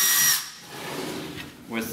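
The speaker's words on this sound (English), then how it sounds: "I'm going to drill holes where you marked it" A brief high whine of a power drill starting up close by to drill holes for a geoboard, then quieter handling sounds and a short second whir.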